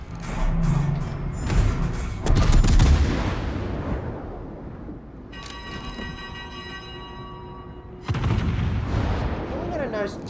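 A heavy cruiser Hipper's naval gun salvo in World of Warships: booming, rumbling blasts at the start and again near the end, with a ringing tonal sweep between them.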